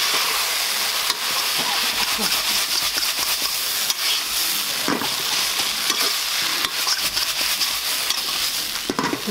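Chinese bhel being tossed and mixed in a pan at a roadside stall, a continuous hissing sizzle broken by repeated scraping and clattering strokes of the utensil, sustained and close, with no talking.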